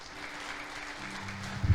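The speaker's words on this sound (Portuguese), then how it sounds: "E aplauda o Senhor por isso." Congregation applauding during a church sermon, a steady, moderately faint wash of clapping that lasts under two seconds, with a slightly stronger burst near the end.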